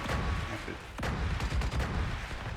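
Gunfire from a pistol in the shooter game The Division 2, a raid mission, with a sharp shot near the middle amid a dense, busy mix of game noise and sporadic further bangs.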